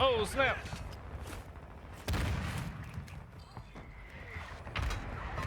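Gunfire in the mobile racing game Hill Climb Racing's Top Gun mode, with scattered shots and bursts sounding at moderate level over game effects and chatter.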